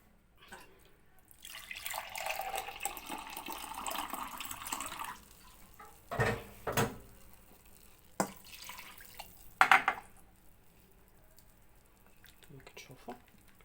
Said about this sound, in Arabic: هنا غنزيد الماء.